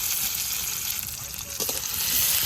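Chopped onion, green chillies and whole garlic cloves fry in hot oil in a kadai with a dense, continuous sizzle up close, with stirring scrapes building toward the end.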